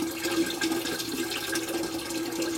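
Water gushes and gurgles as it is drained out of a water system tank full of gunk, a loud continuous swirling pour close by with no talking.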